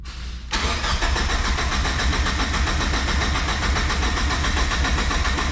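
Turbocharged Mazda Miata engine cranking briefly, then catching and running at a loud, steady, rough idle up close, with no voices over it.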